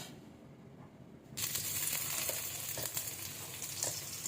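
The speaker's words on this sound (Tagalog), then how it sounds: "prito na natin. Sabay ganun." Quiet at first, then a sudden loud burst of sizzling as food hits hot oil, settling into steady crackling frying with a few sharper pops.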